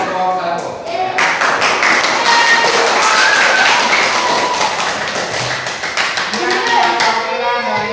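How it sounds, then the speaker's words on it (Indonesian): A small class of students claps for the first group, irregular close-up handclaps that swell and then thin out, with voices talking over the clapping. "Tepuk tangan buat kelompok 1."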